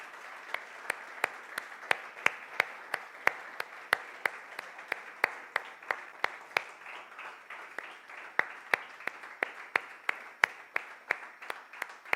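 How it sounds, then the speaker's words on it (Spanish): A church congregation applauds: soft, diffuse clapping runs throughout while one or a few near, sharp claps strike out in a steady rhythm above it, roughly every half second. "Dale un aplauso a Él."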